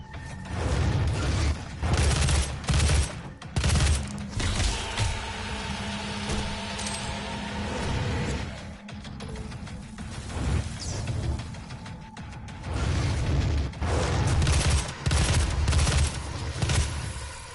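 Loud, repeated bursts of weapon fire from the DOOM video game arrive in heavy clusters separated by shorter lulls of mechanical clanks and ambient game noise, close and punchy throughout.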